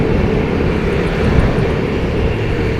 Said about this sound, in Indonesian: Itu kalau lagi idle agak sedikit kasar menurut gue ya, sedikit banget, tapi berasa gitu gue getar-getar mesinnya